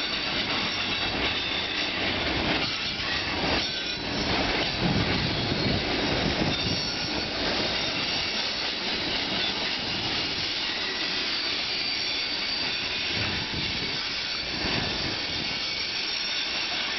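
A CN freight train carrying petroleum tank cars rolls past Bayview Junction in Hamilton, Ontario, a loud, sustained rumble of wheels and rail noise with faint squealing, holding steady throughout.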